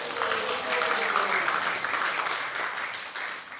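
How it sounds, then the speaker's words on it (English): A temple audience breaks into sustained applause, a steady wash of many hands clapping at moderate loudness for several seconds, with a voice briefly audible early on. "Yes, it is worthy of applause."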